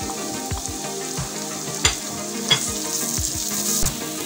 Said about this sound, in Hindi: टमाटर को भी अच्छे से प्याज में और लहसुन में भून लें कि ये नरम हो जाए।